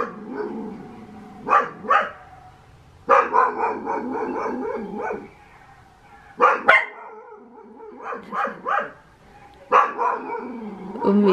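Roxy, a pet dog, gives repeated sharp barks in short bursts with whining and whimpering between them, close and fairly loud, with no talking.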